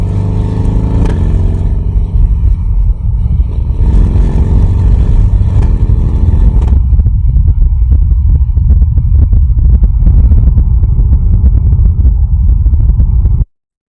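A Porsche Boxster engine revs loudly while driving, with pitch climbing through a couple of gear pulls and then settling into a steady, rougher drone close by.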